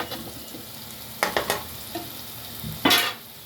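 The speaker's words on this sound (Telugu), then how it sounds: "అల్లం వెల్లుల్లి పేస్ట్ బాగా వేగాలి, పచ్చివాసన పోయేంత వరకు" Ginger garlic paste frying with tomato and onion in a pan, with a few scraping stir strokes and soft crackling, a louder sizzling burst near the end, no talking.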